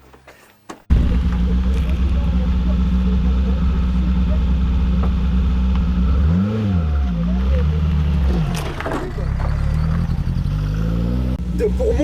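A Marcadier Barzoi sports car engine fires up abruptly and revs loudly close by, with rising and falling throttle sweeps over a sustained roar, voices faintly underneath.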